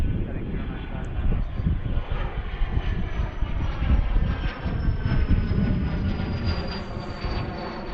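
A fixed-wing airliner rolls down runway 9 left for takeoff, its engines roaring in a steady, loud broadband rush with a faint rising whine that stays continuous throughout.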